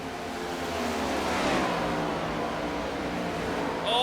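A stock car engine at Indianapolis Motor Speedway in a Brickyard 200 Cup Series race, a sustained loud roar of a car passing, swelling and easing with a rising whine near the end.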